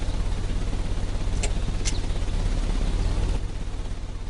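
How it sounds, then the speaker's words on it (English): A steady low engine rumble runs throughout in a Sherlock Holmes game scene, near and even-toned, with a couple of short bright clicks midway and no speech. "The engine has started."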